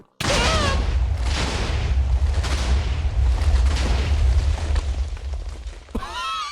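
A loud, sustained booming blast in Minecraft as a pig explodes, rumbling heavily for several seconds before tapering off, with a brief voice at the very end.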